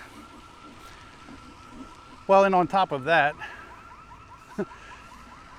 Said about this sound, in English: And now there's this alarm blowing me up.